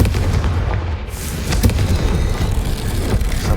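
A Confringo fire spell blasting in Hogwarts Legacy, a dense, heavy booming rumble that stays loud and continuous throughout, with a few sharper cracks breaking through near the middle.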